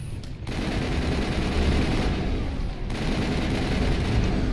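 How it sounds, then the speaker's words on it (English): Sustained battle gunfire from the Mass Effect video game, rapid bursts blending into a loud continuous rattle of weapons with brief gaps, no speech. "There's less gunfire coming your way."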